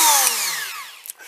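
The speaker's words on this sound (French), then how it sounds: "c'est quand même une perceuse qui tourne très vite" A small high-speed drill for printed circuit boards spins down, its whine sliding lower in pitch and fading over about a second, close and clear with no talking.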